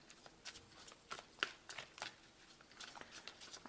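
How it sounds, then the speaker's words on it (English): A deck of tarot cards is shuffled by hand, giving soft, quick papery riffles and flicks in irregular bursts, close but faint, with no talking. "I have shuffled this deck."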